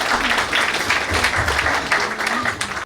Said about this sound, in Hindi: आइए हम तालियों के साथ उनके स्वागत।